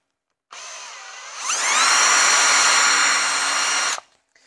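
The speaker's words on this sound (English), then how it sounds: "So I'm gonna take my drill" A power drill spins up to start a hole while fabricating a coolant pipe for a Subaru Sambar, a steady whine that rises in pitch and loudness after a second, runs alone for about three seconds and then cuts off abruptly.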